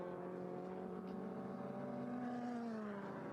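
A Dodge Viper GT race car screams past at a Taupo circuit race, a faint, distant engine note rising in pitch as it accelerates through the gears.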